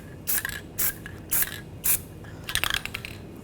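Short bursts of anti-seize spray hitting a rusty wheel hub on a 2013-2022 Buick Encore during rear wheel bearing work, four distinct hissing puffs followed by a clattering, crackly spray sequence, close and fairly quiet.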